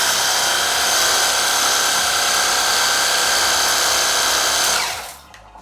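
HOTO cordless pressure washer spraying water through its 20-degree nozzle setting, a loud, steady high-pressure hiss that holds for nearly five seconds and then cuts off abruptly into quiet.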